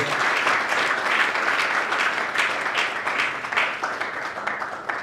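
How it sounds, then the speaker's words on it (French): A crowd applauds a performing artist at a Congolese music event. Steady, lively clapping carries on for several seconds with a faint murmur of voices underneath. "Est-ce qu'on peut applaudir pour l'artiste, mesdames et messieurs?"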